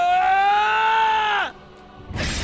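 A scream in a video game, a loud sustained cry with a strong harmonic tone that holds steady for about a second and a half, then drops off sharply into quiet before a burst of noise.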